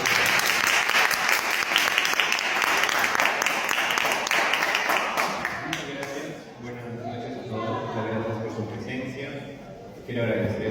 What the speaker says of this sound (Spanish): quiero pedir unas palmas fuertes para dar la bienvenida a Félix Plum